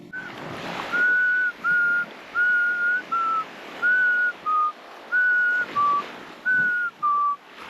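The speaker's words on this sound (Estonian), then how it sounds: "kui sa tegelikult vilistad, tulevad nad kohe oma kojast välja" Series of short, steady, high-pitched whistled notes repeated at an even pace, clear and fairly close, used to lure hermit crabs from their shells on a tropical uninhabited island, with no talking.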